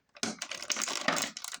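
Scissors snip and crinkle through plastic packaging of a McFarlane action figure, a short burst of close, rustling cuts lasting over a second with no voices.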